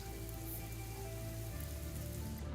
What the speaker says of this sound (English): Oh, it's raining. Cool, looks quite heavy as well.